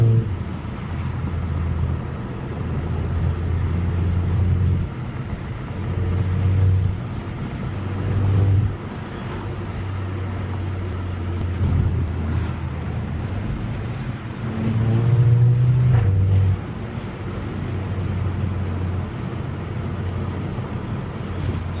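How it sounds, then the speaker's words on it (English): A 2014 Volkswagen MK6 GTI running steadily from inside the cabin, its low engine drone swelling in several rev rises with faint exhaust crackle, heard close and fairly loud throughout. "I like the way this car pops"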